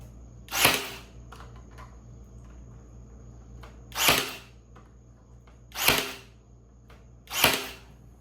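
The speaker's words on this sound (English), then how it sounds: "One thing I've realized that I've lacked in this video is the nail gun." A nail gun drives nails into wood for a kayak stand, four sharp separate shots spaced a second or more apart over a low steady hum.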